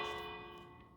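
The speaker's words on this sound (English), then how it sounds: "Bell." A bell rings once in the video game Minecraft, a single struck chime with clear sustained overtones fading away over about a second.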